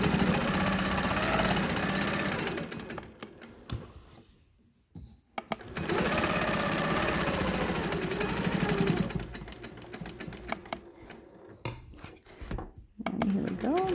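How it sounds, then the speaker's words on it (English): A sewing machine stitches a straight line across a quilt, its steady, rapid motor whir running in long stretches with brief stops between runs. A person talks over it. "Straight line stitching, about 1/4 of an inch away."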